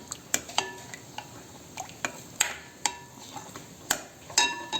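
Spoon clinking and scraping in a bowl while yogurt is mixed with salt and cumin for dahi bade, a series of sharp light taps close up with no talking.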